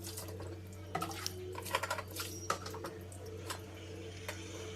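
Stove parts are rinsed under a running kitchen tap, a soft steady trickle of water with scattered clinks and splashes as the pieces are handled, close and fairly quiet.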